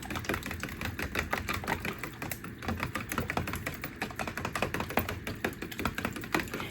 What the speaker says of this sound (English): We're going to beat our eggs.